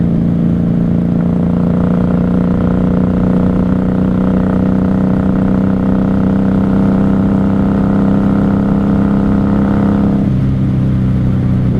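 A 1994 Honda Magna 750 VF750C motorcycle cruising down a highway at night, with a steady, loud engine drone that holds constant before the pitch drops near the end as the bike slows.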